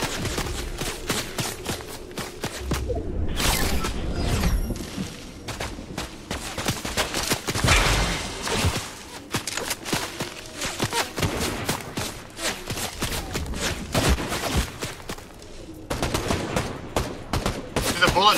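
Repeated gunfire in Fortnite, fired at long range, comes as irregular bursts and single cracking shots spread across the stretch, moderately loud, with a few quieter gaps between volleys.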